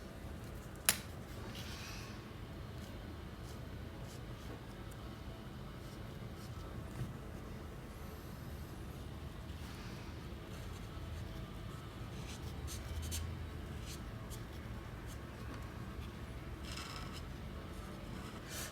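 Faint, steady scratching of a marker colouring in a drawing, a soft continuous rubbing with a sharp click near the start, heard close up in a quiet room.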